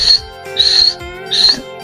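A voice imitates the faint whistling heard over a thrombosed hemodialysis fistula, giving three short, high, breathy whistles at a steady rhythm over a low hum.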